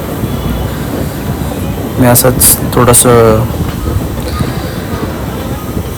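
A passenger train rolls on the rails along the Konkan route near Sangameshwar, a steady close rumble and hiss of wheels and moving coaches running throughout while someone talks briefly over it.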